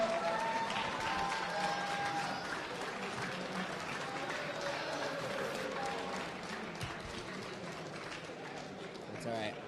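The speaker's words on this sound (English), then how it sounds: "Can we give one more big round of applause for all the teams" A crowd at the H2GP World Final 2023 main event applauds competing teams, a sustained wash of clapping and cheering at moderate distance with voices mixed in.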